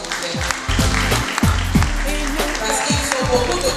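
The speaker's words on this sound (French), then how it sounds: "Applaudissez encore, s'il vous plaît." Sustained audience clapping following a project presentation at an entrepreneurship café event for women, dense and continuous with some scattered voices and low thumps beneath.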